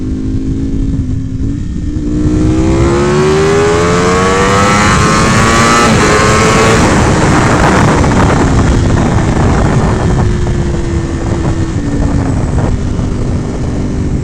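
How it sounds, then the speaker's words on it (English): A Ducati motorcycle engine revs loudly and up close, climbing steadily in pitch over several seconds, then holding and easing slightly at a high roar, with no talking. "Maybe we should give it a little bit since this bike hasn't really revved much."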